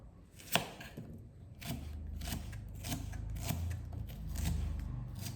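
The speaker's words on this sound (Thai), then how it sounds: "หั่นหอมกันก่อน" A knife chops onions on a cutting board in quick, fairly regular strokes, close up, over a low background hum.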